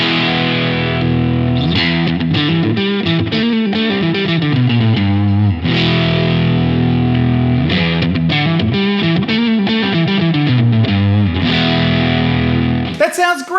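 A Jazzmaster electric guitar with gold foil humbucker pickups plays through heavy distortion. Loud, gritty riffs mix sustained chords with choppy rhythmic strums, and a brief noisy scrape comes at the end.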